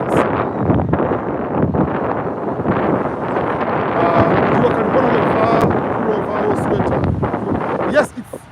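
Steady wind buffets the microphone in a loud rumbling roar, with a voice talking through it before it cuts off near the end.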